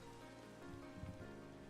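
Faint, steady rain from the Minecraft video game, a soft continuous patter under a low constant hum, with no speech.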